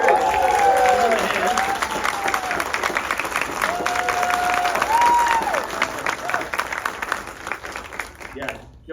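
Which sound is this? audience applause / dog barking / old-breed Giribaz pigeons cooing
audience applause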